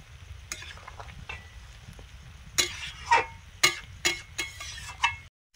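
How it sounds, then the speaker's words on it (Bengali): Fish frying slowly over a low flame in an iron wok, a soft steady sizzle beneath a series of sharp stirring scrapes and clatters that grow louder and more frequent toward the end. "এদিকে লোহার কড়াইতে মাছগুলো ধীরে ধীরে হালকা জ্বালানিতে সুন্দর ভাজা হয়ে গেছে"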